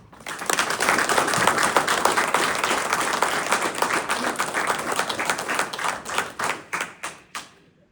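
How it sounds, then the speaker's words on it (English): A room full of people at a city council meeting in Linden, Michigan applauds steadily, then the clapping thins out to a few scattered final claps and stops. "please give Roger Carter a round of applause for being selected Firefighter of the Year"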